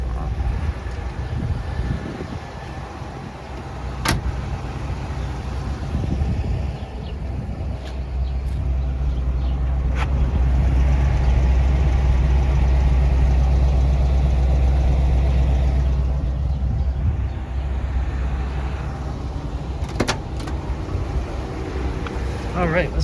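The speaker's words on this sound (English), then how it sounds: "I'll start it up and you can hear the exhaust." A 1967 Buick Riviera runs with factory-style dual exhaust and resonators, a steady low engine rumble holding for about twenty seconds and swelling midway, with a couple of sharp clicks and outdoor wind noise.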